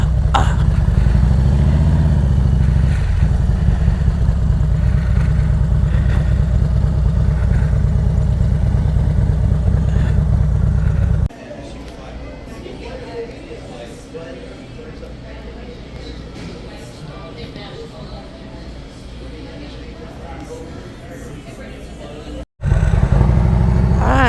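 Motorcycle engine running and idling in Rome, steady and loud for about ten seconds, then dropping to a lower rumble with traffic and street noise before cutting briefly and returning at full level.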